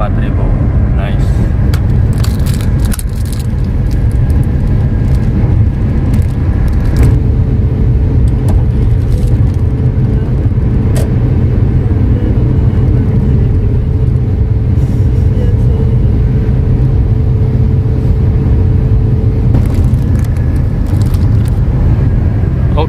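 A 2013 Suzuki Ertiga 1.4 manual car cruises at a constant 120 km/h on a toll road near 4000 rpm, heard from inside as a loud, steady engine and road rumble with a voice speaking over it.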